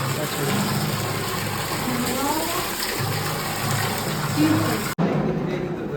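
Water running steadily at a temple foot-washing spot, a loud continuous gushing flow with a faint engine-like hum underneath, cut off briefly by a sharp break near the end.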